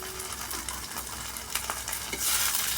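Onion, ginger, garlic and chopped tomatoes sizzle in hot oil in a pan while a spoon stirs, steady frying hiss with scraping strokes, growing louder as the tomatoes go in; no talk.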